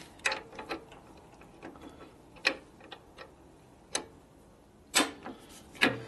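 A torque wrench clicks while bolts on a 1965 Harley-Davidson FLH 74ci panhead engine are tightened: sharp, isolated clicks a second or so apart in a quiet workshop, with no talking.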